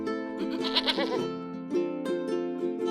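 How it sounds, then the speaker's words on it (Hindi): A herd of goats bleats nearby as they are driven toward the forest to graze, with several wavering, overlapping bleats that rise and fall over about three seconds, and no talking. "और सभी बकरियों को ले जाके जंगल की तरफ चराने के लिए निकल जाता है।"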